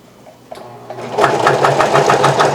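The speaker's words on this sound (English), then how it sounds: "As it's serging, it's cutting off the fabric at the same time" An industrial Vevor serger stitching and trimming fabric starts quietly, then runs at full speed with a loud, rapid, pulsing whir up close, no talking over it.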